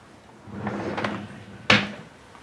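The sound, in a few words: drawer opening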